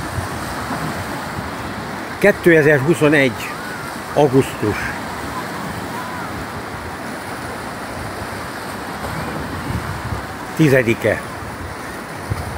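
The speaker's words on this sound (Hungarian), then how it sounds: "Nagy hullámok vannak, éjjel-nappal hullámok vannak." Sea waves on the Adriatic coast near Venice, Italy, a steady broad wash of surf running throughout, with someone speaking briefly over it a few times.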